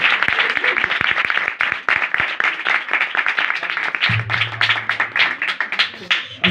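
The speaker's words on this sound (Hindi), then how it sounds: "यीशु के कलाम के लिए एक बार जोरदार तालियां" A church congregation bursts into loud, sustained clapping and applause for several seconds, dense and close, with a low hum entering partway through.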